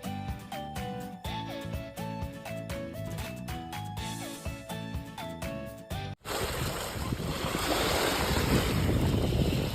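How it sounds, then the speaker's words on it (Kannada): Waves wash in against the shore of a lake, a steady, loud rush of surf mixed with wind buffeting the microphone. It comes in suddenly after several seconds of music and continues to the end. "ಅಲ್ಲೇ ಹೆಂಗ್ ಬಂದು ಹೊಡಿತೈತೆ ನೋಡು ಇದು ಸಮುದ್ರನೇನಾ"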